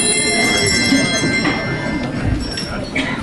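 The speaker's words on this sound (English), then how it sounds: "Do we have any bells in the house?" Concert audience members at a St David's Day concert ring bells together, a busy wash of sustained, overlapping chimes and tinkles throughout.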